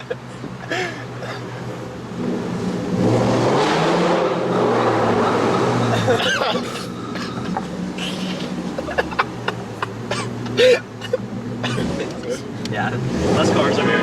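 A straight-piped Lexus IS-F exhaust rumbles and revs inside a busy parking garage, a steady loud droning roar with echo, while people talk over it in the car.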